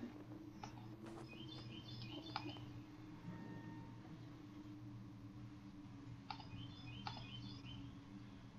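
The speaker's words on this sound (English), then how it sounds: "Birds outside my window" Birds outside a window in the game Fran Bow give soft, quick twittering calls in a few brief bursts, faint and far off above a low, constant ambient drone.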